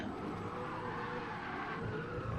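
A Lexus RC-F engine roars under load with tires scrubbing as it slides on a race track, a continuous rough noise heard at a distance, fairly faint.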